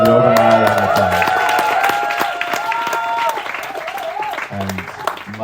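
A festival audience applauds a concert performer, clapping running under a voice and musical tones that stop partway, with the applause persisting to the end.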